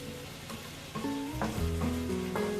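Oil sizzles steadily in a pan as samosas fry, a constant hiss sitting beneath tonal background music with rising and falling notes.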